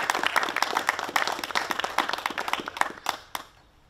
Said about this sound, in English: Can we please have a quick round of applause for our kapahaka rōpū to Māori Whiritoi.